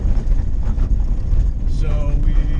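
Vehicle cabin while driving over a rough washboard dirt road, a loud constant low rumble and rattling roar filling the interior, with a voice talking faintly underneath.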